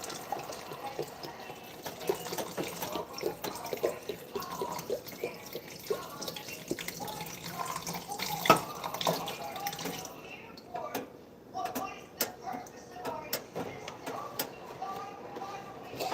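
Tap water runs into a pot for chicken and dumplings soup with steady splashing and trickling, some clatter, then tapers into scattered drips near the end.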